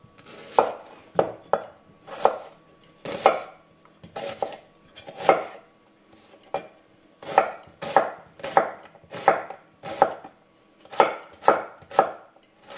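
An onion is chopped with a knife on a cutting board, giving crisp, close knocks that come in quick bursts with short pauses between them, and no one talks.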